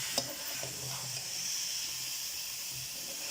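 Grated carrots roast in desi ghee for gajar halwa, a continuous close sizzle and hiss from the pan with faint stirring scrapes underneath, and nobody talking.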